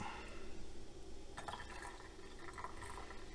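Hot chicken stock is poured through a funnel into canning jars fresh from the canner, making a faint steady liquid fill with light glassy clinks and trickles.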